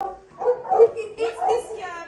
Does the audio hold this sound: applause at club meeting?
no